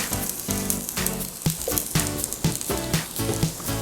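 A pound of cut red potatoes hits hot oil in a skillet set to about 375, giving a loud, steady crackling sizzle with bursts of popping spatter throughout and no talking over it.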